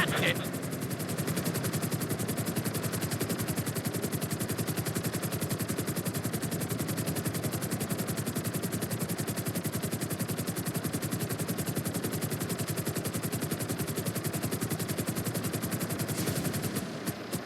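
Aircraft flying during flight school in GTA V on PC, a dense rapid chopping rotor-like drone holding steady and loud throughout, with a voice speaking over it.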